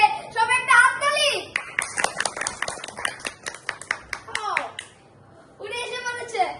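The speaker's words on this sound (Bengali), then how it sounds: "সব একটা হাততালি।" A few children clap their hands in quick, uneven bursts at a playful mock award function at home, the near claps mixing with excited kid voices and squeals before and after.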